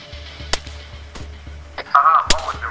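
Gunfire in Arma 3 cracks in a few sharp, isolated shots spaced apart, some close and loud, others more distant, over a low rumbling background with faint chatter.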